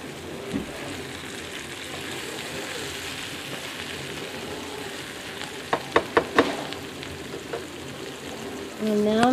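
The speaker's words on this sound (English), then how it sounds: "So I'm going to add that to this pan right now with some yogurt." Sliced tomatoes and cilantro with yogurt going into a hot pan, giving a steady close sizzle with a cluster of sharp clinks and splatters in the middle and a brief voice near the end.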